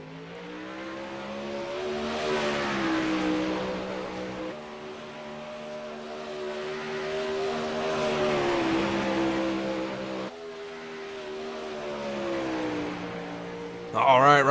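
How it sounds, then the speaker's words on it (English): A race car engine at a motorsports event drones loudly with a rising and falling pitch as the driver gets on the throttle, surging in repeated waves, with an announcer talking over it and a sharp burst of noise at the end. "All right, Ryan Pace getting on the throttle here."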